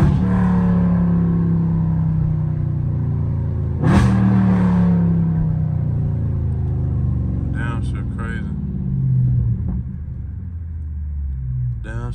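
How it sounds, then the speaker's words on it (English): A Dodge Challenger or Charger Scat Pack revs loudly from the driver's seat, its deep engine roar climbing and falling through downshifts with a sharp blip midway, while someone talks over it. "Downshifts."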